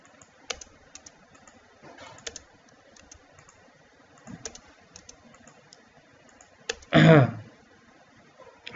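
Keys tapped on a computer keyboard while entering text in Rhino and Grasshopper software, scattered light clicks with a louder burst of rapid keystrokes near the end, close and fairly quiet.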